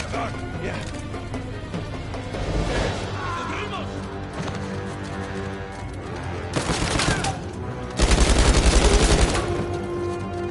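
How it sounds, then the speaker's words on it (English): Machine gun fire in the Uncharted 4 video game: rapid bursts of automatic shots mixed with crashes and impacts, loud and close, the heaviest burst near the end, with game audio layered underneath. "Now I have a machine gun."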